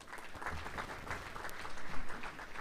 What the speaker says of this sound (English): give Mark a round of applause for joining us tonight